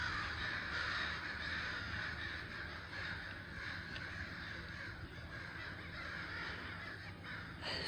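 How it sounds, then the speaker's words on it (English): Crows caw amid a steady wash of outdoor ambient noise at Park Delta Bay, their calls fairly faint and distant against the constant background. "You'll be really quiet so you can hear the crows"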